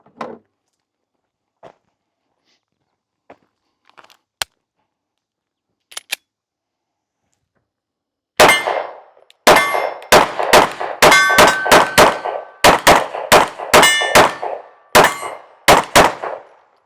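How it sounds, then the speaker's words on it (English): A Sig P365 X Macro pistol fires about a dozen loud, sharp shots in quick succession with metallic ringing, after a quiet stretch of faint clicks and handling noises. "I'm gonna shoot this other X Macro real quick, just so you guys can get it on camera and see the recoil difference."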